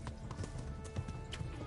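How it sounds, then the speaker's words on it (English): Horse hooves clip-clop at a trot in the medieval video game Kingdom Come: Deliverance, played on hardcore mode, giving a faint, steady run of hoofbeats under ambient game sound with no talking. "when your horse starts freaking out as it does, you kind of got to trot for a little bit"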